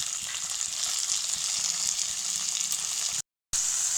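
Onion, garlic, chili and tomato fry in a pan with a steady, close sizzle and crackle throughout, broken only by a brief moment of silence.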